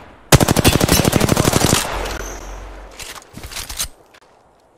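Rapid automatic gunfire in a video game, a loud burst of closely spaced shots that stops after about a second and a half, followed by a few quieter scattered bursts and shuffling.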